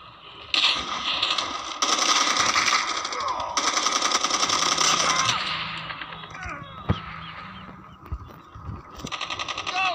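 Rapid automatic gunfire in Call of Duty Mobile on the Hijacked map, dense bursts of shots striking close by, with a brief loud crack and sparse game sounds between volleys.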